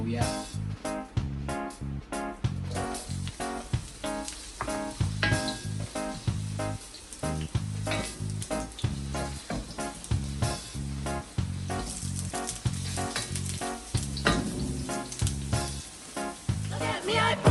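Ginger sizzles and crackles in hot cooking oil in a pan, a dense continuous frying hiss with stirring scrapes, alongside music playing loudly over it.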